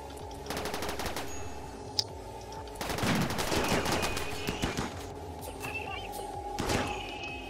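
Rapid bursts of gunfire as colonists shoot in the colony-survival game RimWorld, with repeated crackling volleys, a sharp single shot and dense fusillades rising and falling, mixed with someone talking over the fighting.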